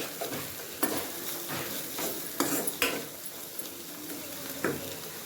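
Bitter gourd with grated jaggery frying in a pan, a continuous close sizzle broken by several scraping, clattering stirs of a utensil against the pan, no talking.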